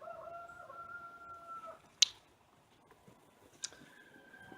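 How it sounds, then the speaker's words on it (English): A rooster crowing on a small farm, faint and distant, one drawn-out call fading into quiet, followed by a couple of sharp nearby knocks against low background noise. "I can hear roosters crowing."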